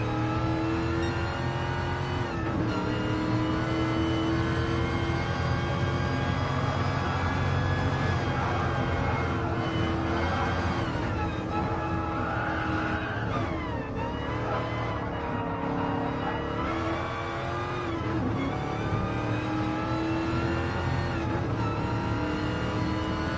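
A Shelby Cobra race car engine roars continuously from a cockpit view, revving up and dropping as the driver short shifts at about half the rev range, loud and close throughout with no pause.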